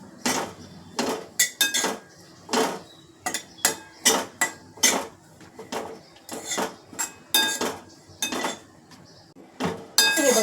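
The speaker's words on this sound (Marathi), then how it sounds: "खोबरं जे आहे थोडंसं रोस्ट करून घेते मी" Grated coconut roasting in a little ghee in a pan, dominated by a series of sharp metal clinks and scrapes of a utensil against the pan at an uneven rhythm, with a faint sizzle underneath.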